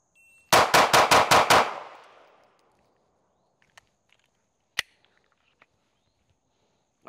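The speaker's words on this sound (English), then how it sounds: "I'm just gonna try to run the gun as fast as I can" A handgun is drawn and fired in a fast string of six loud, evenly spaced shots about a fifth of a second apart, each cracking sharply, followed by a fading echo and then near silence with a few faint ticks.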